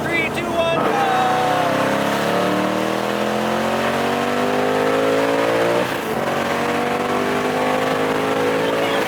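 A Frankenstein Coyote car engine on 93 octane fuel revs hard from launch and climbs through rising gears, loud and close, with a brief shift dip partway, while someone talks over it.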